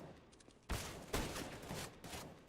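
A long-range CS:GO exchange between a scout sniper rifle and an M4 rifle, sharp loud gunshots at intervals with quieter rapid fire between them.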